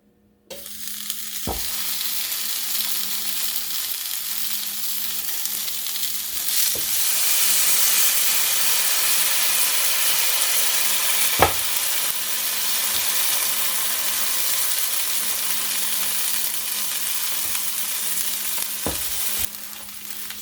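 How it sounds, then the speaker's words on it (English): Slices of Texas toast sizzling on a preheated Ninja Foodi Pro griddle, a steady loud frying hiss that swells after a few seconds and holds, broken by a few sharp clicks, with no one talking. "so next I'm just going to start laying my pieces of Texas toast on top of my griddle."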